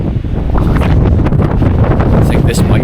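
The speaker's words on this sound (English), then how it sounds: "The wind is fucking horrendous though." Strong storm wind buffets the microphone in loud, continuous gusts on an exposed hillside during a wild camping trip in the Antrim Glens.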